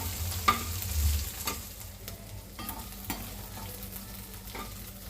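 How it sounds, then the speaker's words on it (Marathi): Green chillies frying over a low gas flame, a quiet steady sizzle with a low burner hum beneath and occasional light stirring scrapes, close and fairly faint. "बारीक गॅसवरती मिरची तळून घेऊ आपण."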